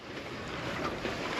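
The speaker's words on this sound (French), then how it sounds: "il y a quand même un peu de houle résiduelle et des vagues assez désagréables" A sailboat at sea rides through residual swell and choppy waves, with a faint, steady wash of water and wind noise around the hull and no voices.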